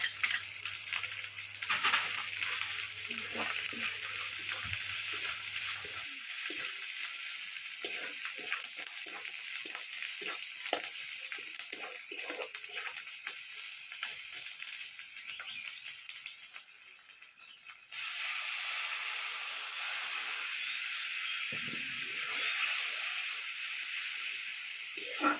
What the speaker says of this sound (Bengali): তো মশলাগুলো কষানো হয়ে গেছে